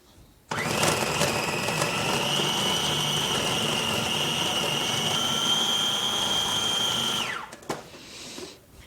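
A food processor whirs as it blends a blue cheese and roasted pecan dip, giving a loud, steady, whining motor drone that lasts about seven seconds before winding down and stopping.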